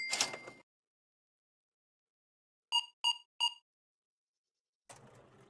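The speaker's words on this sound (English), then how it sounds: "Beep, beep, beep, beep." Three short electronic beeps in quick even succession from the Plant Nursery Simulator video game, clean and distinct in near silence, bracketed by brief other game sounds.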